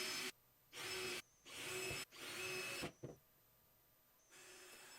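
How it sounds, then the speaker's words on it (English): A power drill pre-drills holes in plywood edge pieces for a table saw crosscut sled, whirring in three close bursts of rising speed, followed by a quieter hum near the end. "I will pre-drill hole locations for attaching the edge pieces."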